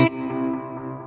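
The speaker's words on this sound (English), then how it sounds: "with that high cut, you get this, tape echo sound" Guitar tone run through a tape echo effect on a Kemper Profiler with the high cut engaged, one struck chord ringing out and repeating in darkened, smeared echoes that slowly fade, heard alone.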